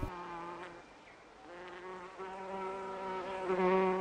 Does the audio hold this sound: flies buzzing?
yes